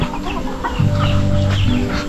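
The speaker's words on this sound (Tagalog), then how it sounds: "I guess the chickens and ducks eat together." Farm chickens and ducks feeding together, a steady close chorus of clucking and low fowl chatter running continuously with no talk.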